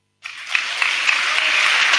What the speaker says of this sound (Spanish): Fuerte el aplauso, hermanos